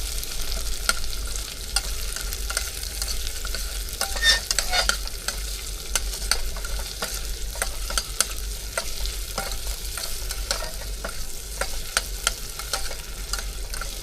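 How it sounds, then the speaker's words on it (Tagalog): Onion sautéing in a pan in a truck cab kitchen, a loud continuous sizzle with frequent sharp crackles and spoon scrapes against the pan, close up and with no voices. "Tapos itong sibuyas. Gisa-gisa lang,"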